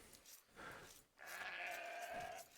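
Sheep bleating in the Age of Empires real-time strategy game, two drawn-out bleats in a row, the second longer and louder, with no talking over them.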